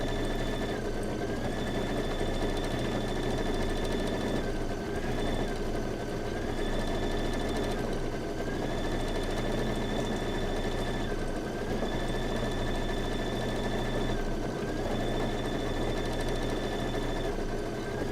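A Kimberbell embroidery machine stitches out a table topper design, a close, steady mechanical whir with a rhythmic pattern of brief pitch dips repeating every few seconds.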